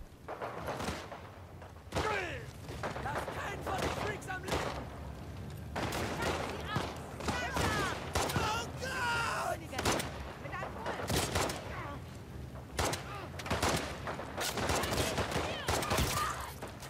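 Repeated gunfire from weapons in The Last of Us Part 2, sharp shots and bursts scattered throughout amid busy combat noise, with someone talking over the action.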